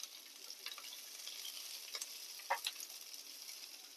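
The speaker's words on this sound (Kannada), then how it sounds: "ಈರುಳ್ಳಿ ಫ್ರೈ ಆಗಲಿ ಸ್ವಲ್ಪ." Onions frying in a pan, a soft, faint, steady sizzle with a few light clicks of stirring, heard alone and fairly close.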